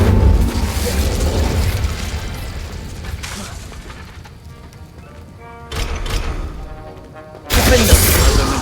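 Incendio fire spell cast in the Hogwarts Legacy video game: a loud whooshing burst of flame that fades out, then a quieter magical shimmer and another sharp blast near the end.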